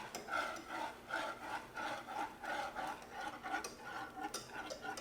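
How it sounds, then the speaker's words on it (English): A whisk and spatula scrape and stir an egg and cream mixture around a bowl for a Christmas trifle custard, making a steady, rhythmic rasping swish in close, even strokes throughout. "And now you get to stir. All right. While I scrape out the bowl."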